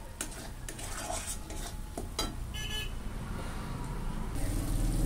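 Octopus masala being stirred and fried in oil in a pan, with repeated scraping and clinking of a utensil against the metal over a continuous rough sizzle, close and fairly loud with no voices.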